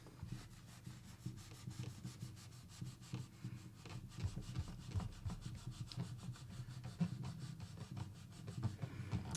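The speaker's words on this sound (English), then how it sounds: "Removing the nut quickly." Steady scraping and rubbing as the nut is worked loose from an old, well-used acoustic guitar, a continuous close-up grinding with rhythmic strokes and no talking.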